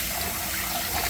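Rice being rinsed under running water gives a short, steady gush of water from a tap, loud and close, with no voices.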